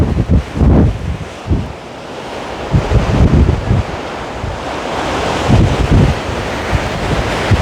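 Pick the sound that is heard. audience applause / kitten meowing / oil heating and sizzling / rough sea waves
rough sea waves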